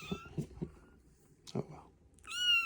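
A kitten lets out a short, high meow near the end after some soft rustling and thumps, with a voice talking quietly nearby.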